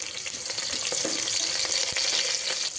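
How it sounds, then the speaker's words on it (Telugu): Chopped onions fry in a pressure cooker for chicken biryani, giving a steady, close sizzle with watery crackle that runs unbroken and fairly loud, with no voices over it. "ఆనియన్స్ అయితే కొంచెం కలర్ వచ్చే వరకు కూడా ఫ్రై చేసేసుకుందామండి"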